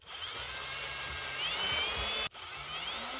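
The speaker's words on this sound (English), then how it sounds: "we'll get these self-tappers installed" A high-pitched power drill whines steadily, its motor pitch shifting slightly as it drives self-tapping screws into a center console mount in a 1996-2002 Toyota, with a brief cutoff near the end before it resumes.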